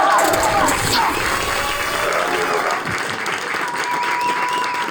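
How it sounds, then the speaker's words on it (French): A theater audience applauds a stand-up comedian as she is introduced on stage, sustained dense clapping with some cheering that stays loud and steady, then eases slightly toward the end. "faites du bruit pour Morgane Mélis, s'il vous plaît"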